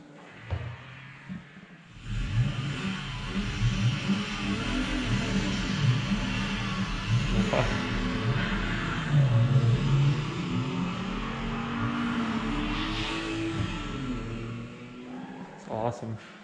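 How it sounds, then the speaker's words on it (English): A BMW M1's engine revs and roars steadily for a long stretch, loud and close, swelling and easing, with people talking over it. "So when you step on the engine, you could hear it."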